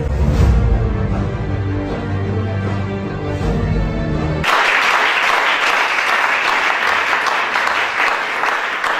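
Church congregation breaking into loud, sustained applause partway through, a dense crackling wall of clapping that replaces the music and voice heard beforehand and continues steadily to the end.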